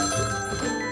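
A phone ringtone plays loud and clear through a ringtone amplifier, a bright tonal ring that sounds continuously for the whole moment.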